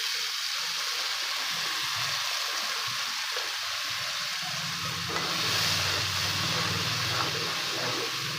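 Water splashed into spices frying in a pan while making Afghani borani baingan, a steady loud sizzle throughout that swells and bubbles more strongly about halfway through, with no talking.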